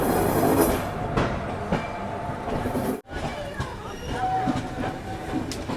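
The Jasidih–Vasco weekly express, an Indian passenger train, rolls along the rails with a loud, steady rumble and clatter of wheels, some faint squeal and muffled voices, and a momentary dip partway through.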